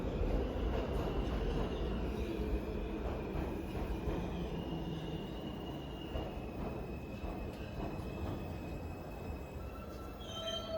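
A New York subway train rides through a tunnel toward Washington Heights, giving a loud, continuous rumble with rattling cars and high wheel squeal that rises and fades. No one speaks.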